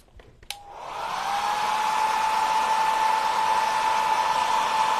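A handheld hair dryer switches on with a click and ramps up into a steady, loud, continuous whoosh and whine, drying paint on a junk journal writing board resting on a craft mat, running alone without talk.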